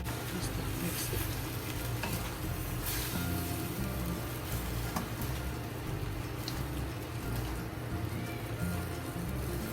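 Rice noodles with vegetables, salted early, are stir-fried and mixed in a hot pan. A loud, continuous sizzle runs throughout, with the scraping and tossing of a spatula against the pan close by.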